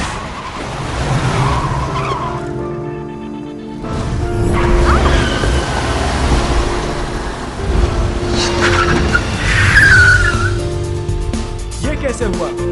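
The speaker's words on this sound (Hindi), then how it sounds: "ये गाड़ी खुद ब खुद कैसे पार्क हो गई, तुमने देखा?" A car skids with tire squeal and whooshing movement in a dramatic series scene, rising and falling loudly over several seconds alongside background talk.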